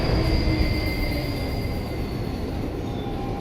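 Steady rumbling of a train in TMNT: Out of the Shadows, with a continuous low roll and faint high metallic whine from the wheels, loud and even throughout with no voices.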